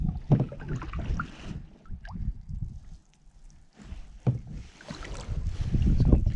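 A loaded kayak carrying camping gear pushes through choppy sea water off the Arisaig coast, with uneven splashes and paddle strokes amid gusts of wind buffeting the microphone.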